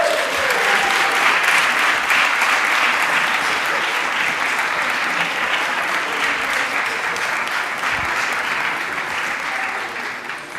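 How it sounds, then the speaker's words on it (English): Sustained applause from the audience at a sports arbitration moot court closing ceremony, dense and steady for about ten seconds, close and loud, gradually tapering slightly toward the end with no speech over it. "we would like a round of applause for Sherbrooke University from Canada"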